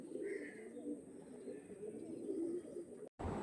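Pigeons coo softly in a loft or pen where birds of an old Andhra bloodline are kept, a low continuous murmur of calls throughout with faint background noise and a brief cut near the end.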